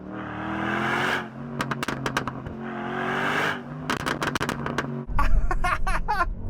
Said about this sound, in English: From the blow-off valve and then from the exhaust,